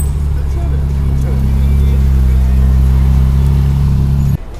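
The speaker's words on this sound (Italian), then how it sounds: "La prima Ferrari è arrivata." A Ferrari sports car rolls into an informal weekend car meet at Tatsumi, its engine a loud, steady low rumble held close by for about four seconds before cutting off abruptly; voices talk over it.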